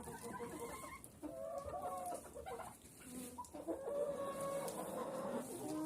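Young laying hens cluck and chatter in a steady, overlapping stream, with brief higher calls rising above the flock.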